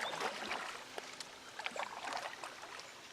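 Faint, continuous rushing and trickling of small waterfalls along the Buffalo River, heard from a kayak with a few light knocks and splashes close by.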